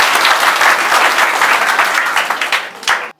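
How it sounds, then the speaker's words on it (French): An audience at a political party installation event in the Congo breaks into loud, dense applause. It holds steady, then thins and stops abruptly. "Applaudissez encore pour lui."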